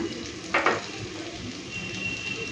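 Ground spice paste with turmeric, Kashmiri chilli powder and ground green chilli frying in a pan, a soft steady sizzle with one brief louder burst of stirring early on.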